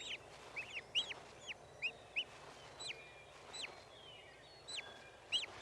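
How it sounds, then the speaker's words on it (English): Wild turkey hen calls to her young poults with soft repeated chirping yelps in short irregular groups, fairly faint over a quiet outdoor background. "Should the poults venture out too soon, the hen will call them back."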